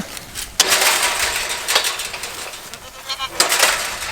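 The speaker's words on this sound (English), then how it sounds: "These goats sit here with all their weight on this fence, and it makes it hard to open." Goats crowding against a farm fence near a livestock guardian dog's feeder, with a few loud, close bleats breaking out over rustling and shuffling.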